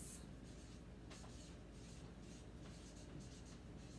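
Pen scratching across paper in short repeated strokes, faint and close, with no talking.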